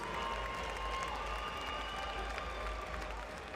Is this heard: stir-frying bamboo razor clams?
no